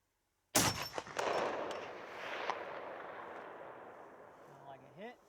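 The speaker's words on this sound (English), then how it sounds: "These are cold bore shots." A single loud rifle shot fired from a cold bore while sighting in a hunting rifle, cracking sharply then rolling away in a long outdoor echo that fades over several seconds.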